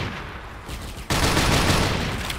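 An AA-12 automatic shotgun blasts at zombies in a video game. A quiet stretch breaks into a loud, dense, continuous burst of rapid fire that holds to the end.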